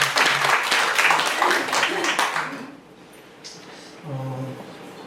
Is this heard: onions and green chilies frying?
no